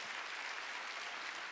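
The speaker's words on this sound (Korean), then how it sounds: "박수로 하나님께 영광합니다" A church congregation applauding during a Sunday worship service, a short, dense, steady wash of clapping heard faintly and at a distance.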